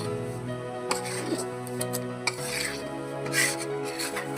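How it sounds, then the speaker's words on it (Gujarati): A spatula stirs roasting flour in a pan for Mohan Thal. It makes a steady close scraping and rasping with occasional sharper scrapes against the metal, over a constant background hum. "ટાળતા વડે લોટને આ રીતે હલાવતા રહેવું"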